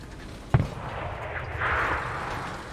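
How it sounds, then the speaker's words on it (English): A single sharp gunshot crack near the start, followed by a low rumbling tail and faint background noise; no talking. "You heard that gunfire?"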